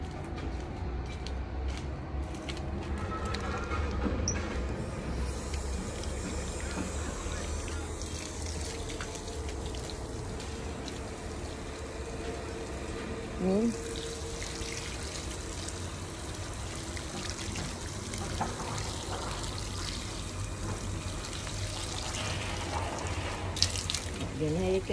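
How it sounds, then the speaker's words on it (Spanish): Water runs steadily from a tap onto plants, a continuous splashing stream with small clinks and shifts in flow, with faint background voices now and then. "pero yo le voy a echar agua"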